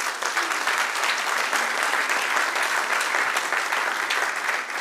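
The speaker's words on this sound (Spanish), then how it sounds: "dale un aplauso" A church congregation applauds during a sermon, a full, steady burst of clapping from many hands with no break, carrying at even loudness throughout.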